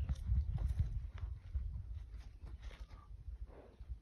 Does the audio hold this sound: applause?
no